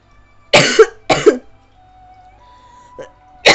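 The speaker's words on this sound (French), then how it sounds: "C'est chiant de tousser tout le temps, j'ai mal à la gorge." Two sharp, loud coughs from a person with a sore throat, close by, followed by a quiet pause and then the start of another cough.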